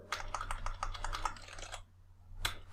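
Rapid keystrokes on a computer keyboard while HTML code is entered, a quick steady run of clicks that pauses briefly before a final few taps; close and clear with no talking.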